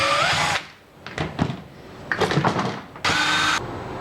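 A power drill backs screws out of a string trimmer housing, running in two short, loud whirring bursts separated by quieter handling noise.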